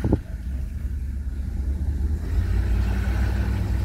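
Car fitted with a new 6L80 transmission rolling around the block without an ECU, a low steady engine and drivetrain rumble that swells slightly louder partway through, with no talking.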